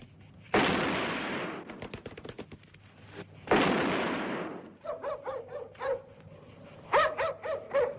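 Two loud, sharp gunshots from a hunting scene in the 1972 Italian film Doppia coppia con Regina, each followed by a long crackling echo, with a dog barking repeatedly between and after them.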